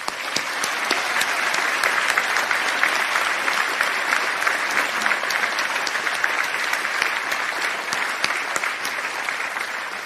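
Sustained applause from a commencement audience thanking faculty and staff, steady and dense with many hands clapping, no voices over it.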